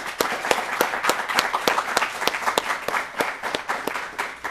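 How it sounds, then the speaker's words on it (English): A modest audience applauds a career panel, with distinct individual claps standing out in an irregular rhythm, close and clear, sustained for several seconds without talk. "Let's give them a round of applause."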